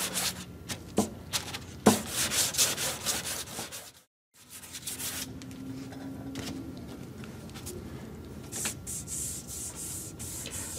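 Hand sanding of painted wood molding during a chipped-paint repair, a dry rubbing and scraping texture in irregular bursts with a short pause midway, fairly close and steady, no talking.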